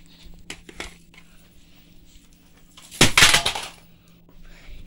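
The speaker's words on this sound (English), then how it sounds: "That tape is getting destroyed." A bootleg VHS tape is smashed, starting with scattered clicks and light handling noises. A loud burst of cracking and crunching plastic follows, breaking and crinkling for about a second, then faint rustling.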